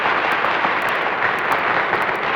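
Applause from a studio audience at a championship laughing contest, a steady wash of clapping that holds at an even, fairly loud level throughout.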